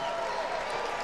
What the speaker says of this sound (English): Crowd erupts with that basket